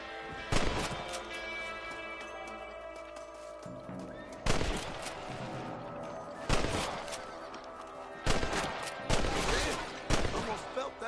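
Rifle shots in Red Dead Redemption as rabbits are hunted, sharp loud cracks arriving singly and in quick pairs across the stretch, over a steady game ambience with a horse's whinny mixed in.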